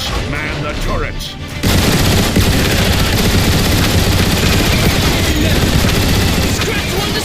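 Autobot gun emplacement turrets fire at Decepticon Seekers during the Defend Iacon battle in Transformers: War for Cybertron. After a short quieter lead-in, a dense, continuous barrage of loud, rapid gunfire sets in and keeps going to the end.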